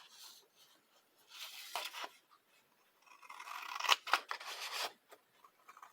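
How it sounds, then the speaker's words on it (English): Scissors snip through a sheet of craft paper in several short, crisp bursts, quiet and close, with pauses between cuts and no talking. "So, I'm going to have to cut out a piece to do that."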